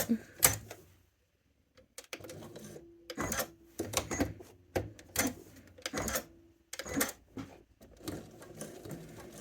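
A sewing machine stitches upcycled t-shirt fabric in quick bursts of rapid, close mechanical clatter, broken by short pauses between runs.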